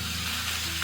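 Fish frying in oil over medium-high heat in a pan for a tofu clay-pot dish, a steady dense sizzle hissing continuously without pause, close and loud.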